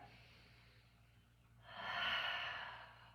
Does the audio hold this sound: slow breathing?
yes